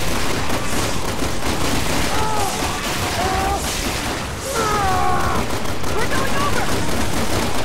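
Rapid gunfire from the video game Resident Evil 6, played as Leon on PS4, keeps up a dense, steady stream of shots throughout while excited players talk over the action.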